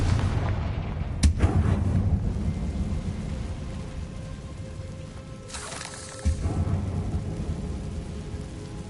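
Explosive Bombarda and Confringo spell blasts in the Hogwarts Legacy video game on PS5: a sharp loud burst, then rumbling impacts and a second blast over a steady low roar, with no talk.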